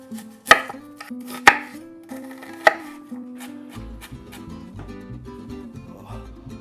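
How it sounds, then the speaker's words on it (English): A knife mincing a small onion on a cutting board for guacamole: three sharp, loud chops, then a quicker run of softer, close chopping strokes, with no talking. "grab a small onion and mince it"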